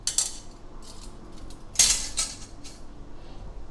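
A metal steamer rack with a hook is set into a cooking pot, giving a few sharp metallic clinks and clanks, with one louder clatter midway, close up and without talk.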